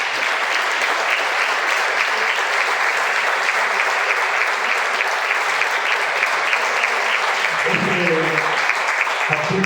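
Sustained audience applause at a journal presentation, loud and dense for most of the stretch, with a voice starting to speak over it near the end.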